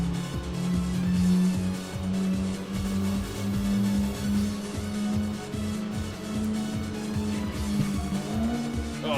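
Car engine droning steadily while drifting in Tokyo Xtreme Racer, a loud sustained tone with a rising pitch near the end, tire squeal hard to pick out beneath it, no voices over the sound.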